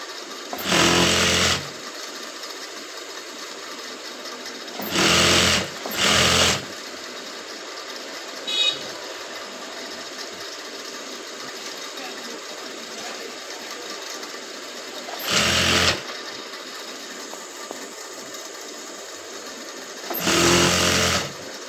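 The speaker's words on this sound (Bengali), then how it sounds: "সেট করে এখন আরেকটি সেলাই দিয়ে নিব আমি হাতার মুহুরিতে।" Electric sewing machine stitching the cuff hem of a kameez sleeve, four or five short loud bursts of rapid whirring stitches separated by quiet pauses, heard alone without talk.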